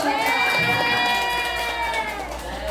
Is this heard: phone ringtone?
no